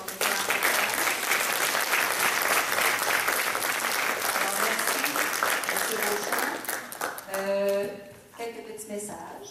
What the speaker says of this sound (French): On va applaudir M. Beauchamp pour son déclaration.